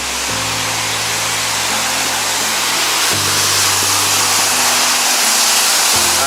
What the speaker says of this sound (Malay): Boleh dengarkan bunyi air